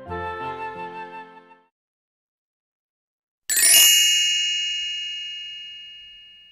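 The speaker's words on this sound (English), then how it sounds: "These bells make me feel fancy" A bell struck once with a bright ring that slowly fades out, following a short musical phrase and a moment of silence.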